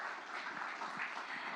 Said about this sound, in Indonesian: Kita berikan tepuk tangan yang luar biasa untuk narasumber kita.